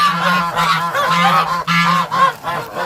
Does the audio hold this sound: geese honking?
yes